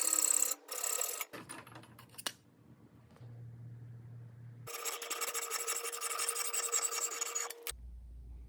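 Fine-tooth hacksaw taking light cuts through a metal part for a surface grinder XY table, heard as rhythmic rasping strokes up close, alone, with a sustained stretch of steady sawing toward the end.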